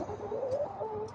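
Hens cluck steadily in a backyard chicken coop, a continuous close chorus of murmuring calls with no talk over them.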